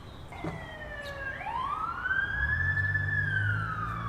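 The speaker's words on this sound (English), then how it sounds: "Police sirens." A police siren wails loudly, its pitch sweeping up and holding high, with a low engine rumble building underneath toward the end.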